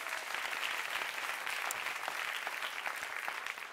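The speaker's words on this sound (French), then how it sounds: "On les applaudit." Applause from the audience at an awards gala, a steady, moderately distant patter of many hands clapping that holds without a pause.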